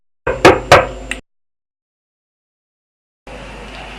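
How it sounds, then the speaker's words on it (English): Someone knocks on a farmhouse door, two firm close knocks and a lighter third tap, followed by silence and then a low room hum. "Jim went up to the house and knocked"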